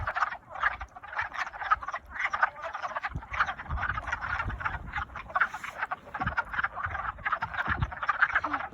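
Repeated raspy croaking of frogs at a pond in quick bursts, a continuous chorus close by, with occasional low thumps and no voices.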